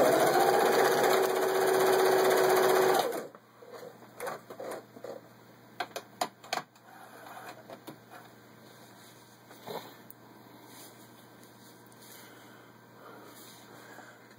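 A vintage 1970s Singer 353 Genie zigzag sewing machine runs at high speed with a loud, steady whirring hum for about three seconds, then stops, leaving quieter mechanical clicks and handling sounds.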